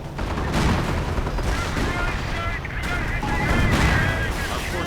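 Artillery shells and gunfire pound a WWII strategy game battlefield as Panzers push forward, a loud, dense and continuous barrage of overlapping booms and crackling shots with no pause.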